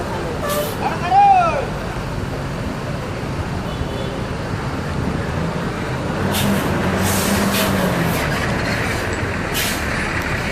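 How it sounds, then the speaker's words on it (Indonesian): An ANS luxury coach bus departing Pondok Pinang Lebak Bulus terminal, its engine rumbling loudly nearby with an early air-brake hiss and a bus horn, as someone talks throughout. "Ya ANS siap diberangkatkan memenuhi terminal Pondok Pinang Lebak Bulus."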